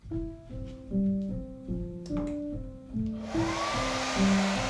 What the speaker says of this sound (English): If you don't own a dryer for your clothes, you can use a hairdryer.